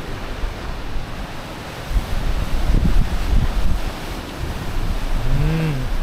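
Waves wash onto the sand spit beach at Mihama Cape in Heda, West Izu, as gusting wind buffets the microphone, a surging roar that rises and falls with a brief tonal hum near the end.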